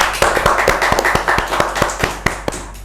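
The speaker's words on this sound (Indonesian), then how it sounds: "Tepuk tangan untuk Mr. Puisi" A small group claps for a guest at the start of an indoor talk show, with sharp, distinct, evenly spaced hand claps, fairly close and fading out after a few seconds.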